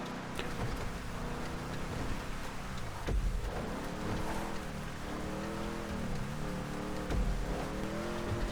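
Imponte Dukes muscle car from a video game racing fast on an off-road stretch, engine tone rising and falling in steady harmonics with a continuous rumble and a couple of heavier thumps from rough ground.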